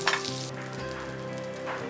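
Two tablespoons of butter melting in a hot pan for an Alfredo sauce, giving a steady close sizzle and crackle that runs evenly through the whole stretch, with no voices.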